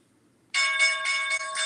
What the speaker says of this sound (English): The bell ringing.